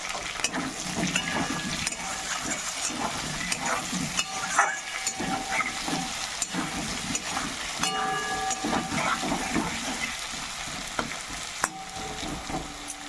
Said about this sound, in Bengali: ভাজা হয়ে গেছে আলুগুলো